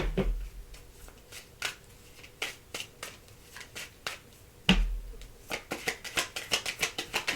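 Tarot-style Art of War cards are shuffled by hand in quick riffling bursts, with a sharp tap or thump of the deck between rounds and a faster run of shuffles at the end.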